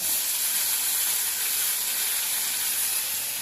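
Fenugreek leaves dropped into a hot pan of ghee give a steady, loud, even sizzle with a bright hiss that holds unbroken throughout, with no voices.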